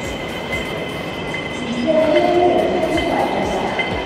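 A train in Hong Kong rumbles steadily with a constant mechanical hum and a faint high squeal partway through, continuous and fairly loud from inside the carriage, with voices faintly beneath.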